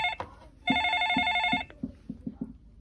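A phone rings with a bright electronic tone lasting about a second, surrounded by soft knocking or tapping sounds before and after.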